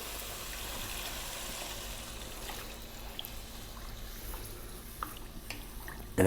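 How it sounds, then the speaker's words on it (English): Water poured into a cooking pot for a soup or stew, a steady, continuous pouring hiss that runs evenly throughout, close and moderately loud with no talking. "Now I'm going to add some water."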